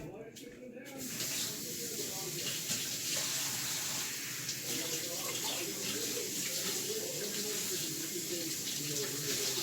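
Water from a kitchen tap pours steadily as lettuce is put in it, a continuous hissing splash that starts after a brief clunk and holds at close range.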